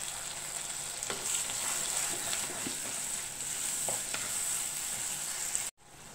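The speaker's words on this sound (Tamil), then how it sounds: "நம்ம ஊற்றின தக்காளி பேஸ்ட் வந்து நல்லா வதங்கி பச்சை வாசமெல்லாம் போய் எண்ணெய் பிரிஞ்சு வர வரைக்கும் இதை வதக்கணும்." A ground paste of tomato, garlic and onion sautés in hot oil with a steady, soft sizzle and occasional stirring scrapes, until the sound cuts off abruptly near the end.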